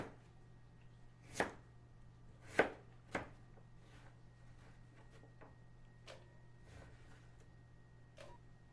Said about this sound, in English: Chop the ends off, bifurcate it, peel it, and into bite-sized chunks.